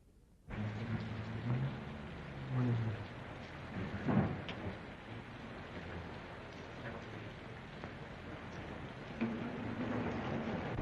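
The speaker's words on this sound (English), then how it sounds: "Raining, isn't it?" Steady rain with rumbling thunder in a 1940 film scene, a continuous wash of rainfall with a few low rolls of thunder swelling and fading, no voices over it.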